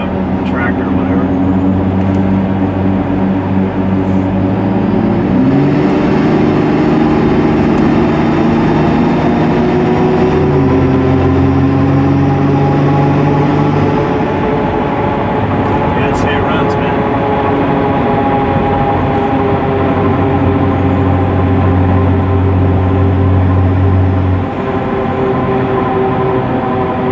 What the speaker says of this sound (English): The turbo spooling up.